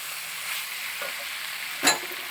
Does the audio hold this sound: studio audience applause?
no